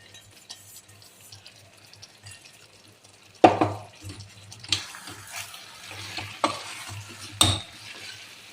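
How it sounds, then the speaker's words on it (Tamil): Mango and ginger pickle being stirred with fenugreek and mustard powder, quiet at first, then several close wet scrapes and clacks of a spoon against the vessel in irregular bursts, with no talking. "இந்த வெந்தயம் கடுகு 2 பொடியும் போட்டுட்டு ஒரு கலக்கிட்டு எடுக்க வேண்டியது தான்"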